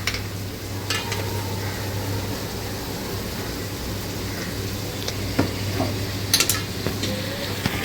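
Ginger garlic paste fries with crab and onions in a pan, giving a steady, close hiss of sizzling with a low hum underneath and a few sharp utensil clinks near the end.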